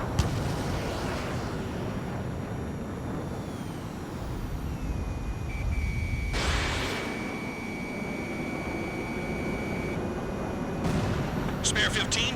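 Missile strike and explosion in the combat flight game Ace Combat 7, a broad rumbling blast under steady jet-engine roar, with a sustained warning tone partway through and a brief crackling burst near the end.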